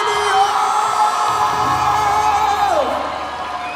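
Concert crowd at an outdoor park show in Istanbul cheering and whooping loudly for a guest singer, a dense sustained roar of yells under a shouted announcement, fading slightly at the end.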